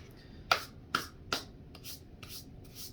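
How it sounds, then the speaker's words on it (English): Short rasping strokes of 400 grit sandpaper across metal guitar frets, about seven quick scrubs in a loose rhythm, close and fairly quiet. "this is 400 grit sandpaper"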